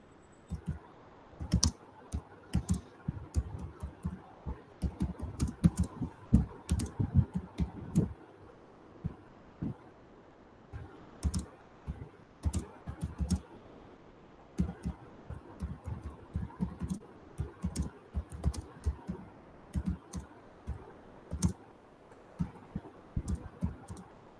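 Typing on a computer keyboard, with irregular bursts of close, crisp key clicks in quick runs separated by short pauses, going on for about twenty-five seconds with no talking over it.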